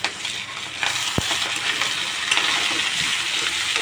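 Egg rice sizzles and hisses in a frying pan as it is stirred, a steady bright crackle with a few clinks of a utensil against the pan, with no talking.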